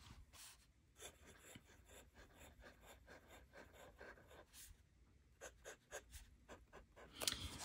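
A fine-nibbed Esterbrook Jr. fountain pen scratches across paper in a series of faint, close scratching strokes with brief pauses between them.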